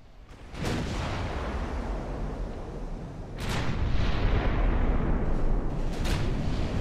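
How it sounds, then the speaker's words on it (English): Naval guns on a light cruiser firing shells in Ultimate Admiral: Dreadnoughts, two heavy booming salvos several seconds apart, each followed by a long rumbling roar that stays loud and sustained. "So now we're lobbing 6 shells at a time at him."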